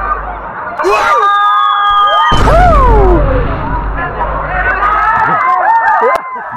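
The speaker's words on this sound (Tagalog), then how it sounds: "bigla na lang lumakas ang sigawan ng mga tao na nagbibigay suporta para makatalon tayo sa itaas" A crowd at the Lisap River cliff jumping spot in Bongabong, Oriental Mindoro shouts, whoops and cheers loudly for jumpers, a burst of voices swelling and falling with overlapping yells close by.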